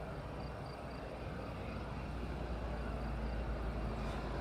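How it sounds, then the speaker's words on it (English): An Aerowings aircraft from Tenerife at Madeira Airport gives off a steady, broad engine roar that holds constant and fairly loud throughout, heard without talk. "Indeed, Martin, I thought it was the Electra from Brno, but no, we have Aerowings from Tenerife."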